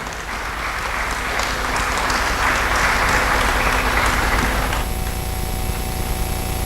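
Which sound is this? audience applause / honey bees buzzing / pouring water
audience applause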